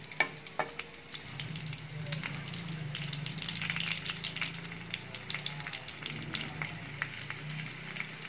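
Dried curd chillies (dahi mirchi) frying in hot oil, a lively crackling sizzle with many quick pops, steady and close throughout.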